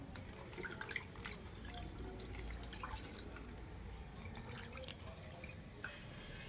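Kal bagus fish is rinsed with water, a soft, continuous trickle and splash with scattered drips, fairly faint and unbroken, with no talking.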